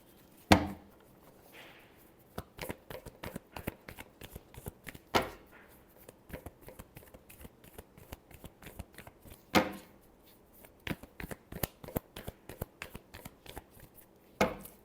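Tarot cards are shuffled by hand in a rapid run of crisp, riffling slaps and flutters, close and fairly quiet, with a few sharper snaps standing out and no voice over them.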